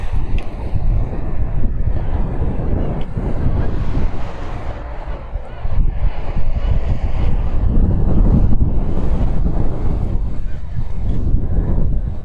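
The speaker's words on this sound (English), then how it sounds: "I love the wind because you feel nature, you feel the power of nature" Strong wind on the Costa Brava coast at Port de la Selva buffets the microphone in a constant loud roar with gusty swells, with a faint hint of voices beneath.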